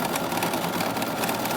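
Embroidery machine quilting a Kimberbell Cuties diamond-and-circles design on a table topper hums and clatters steadily in rapid repeated stitches, with no voices.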